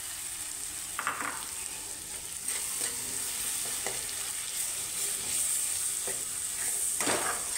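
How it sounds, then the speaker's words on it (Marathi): Onion and tomato paste sizzles in hot tempering oil for hotel-style pav bhaji, a steady hiss growing slightly louder, with occasional spoon scrapes and knocks against the pan. "त्याच्यामध्ये मी वाटून घेतलेला कांदा आणि टोमॅटोची पेस्ट घालते."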